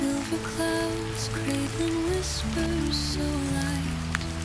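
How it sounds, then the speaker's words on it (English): Soft rain falls steadily with a gentle, continuous patter under a calm, sustained musical backdrop of low held tones, set in a cozy bedtime scene. "The rain will sing you to sleep."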